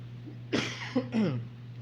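Two or three short, rough coughs from a preacher during a sermon, close by, spaced apart, in an otherwise quiet room with a low steady hum.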